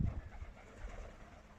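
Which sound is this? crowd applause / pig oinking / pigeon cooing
pigeon cooing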